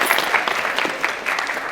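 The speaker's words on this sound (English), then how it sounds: "give a round of applause for Anthony" School students applaud a guest at a surprise supercar visit, with a burst of dense, lively clapping close by that stays steady through the short stretch.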